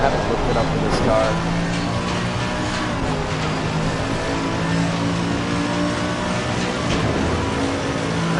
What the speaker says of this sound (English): Am I revving this car out too much or not enough either?